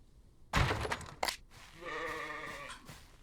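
Sheep bleating on a farm homestead in the Western game Outlaws of the Old West: a sharp clatter comes first, then a sustained, wavering bleat rises and carries on for about a second, fairly close and heard alone without any talk.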